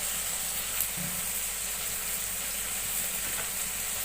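Refined oil sizzles in a pan while cooking chicken masala, a constant bright hiss and crackle at steady volume, close by and with no talk.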